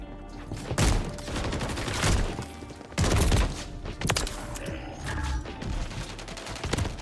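Sniper rifle shots in a shooter video game, heard as a series of sharp, heavy reports spaced roughly a second apart amid other game sounds, moderately loud and close.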